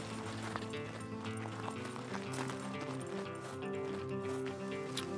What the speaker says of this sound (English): Oh, we got a horse up ahead.